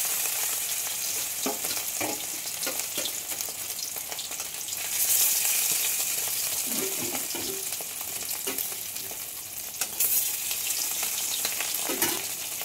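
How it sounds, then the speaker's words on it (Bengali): Rohu fish pieces frying in smoking-hot mustard oil give a steady, loud sizzle throughout, with occasional soft clicks and scrapes from turning the fish. No one speaks. "এখন মাছগুলো ভেজে নেব।"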